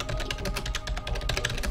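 Steady, fast computer keyboard typing picked up close by a streamer's microphone during a German gaming stream, with dense, even keystrokes and no talk.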